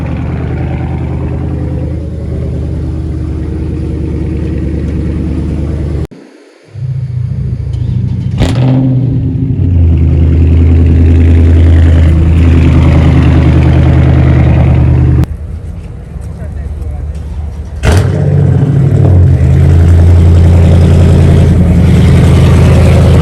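A Dodge Charger 392 Scat Pack with straight-pipe exhaust idles with a deep, loud rumble, punctuated by two sharp revs that briefly drop and then surge back into a heavy, steady burble.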